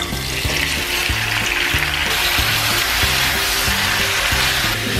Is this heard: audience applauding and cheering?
no